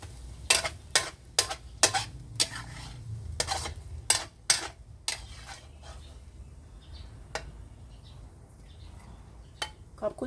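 Stir-fried glass noodles with egg being scooped from a pan with a metal utensil give sharp, irregular clinks and scrapes, clustered early and then sparser, close by with no talk.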